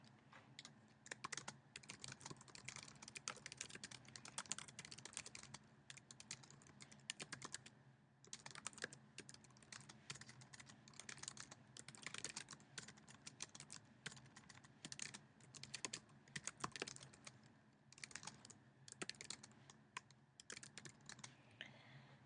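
Rapid, uneven clicking of keys on a computer keyboard continues throughout, close and fairly quiet, with a few brief pauses.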